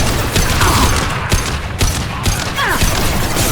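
Combat gunfire in Mass Effect 2, loud dense bursts of shots and thuds running throughout with mechanical clatter, close and continuous, with a voice briefly under it.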